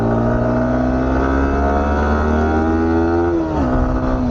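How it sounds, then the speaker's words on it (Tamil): A Yamaha R15 V4M motorcycle engine runs loud and close, holding a steady high-pitched drone before the revs dip and settle near the end. "வாவ், வண்டி சவுண்டு பயங்கரமா இருக்குங்க."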